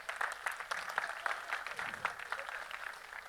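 A packed theatre audience at a film trailer launch claps together, a brief dense burst of applause at moderate, steady loudness.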